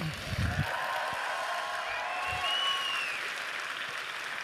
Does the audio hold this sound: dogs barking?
no